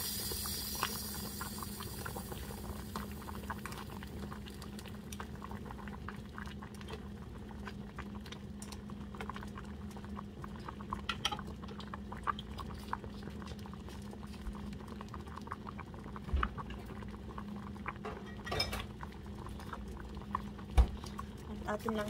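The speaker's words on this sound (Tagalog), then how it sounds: "At atin lang siyang pakuluan ulit" A pot of Visayan-style seafood soup boils steadily, its soft bubbling broken by scattered small pops and ticks over a low background hum.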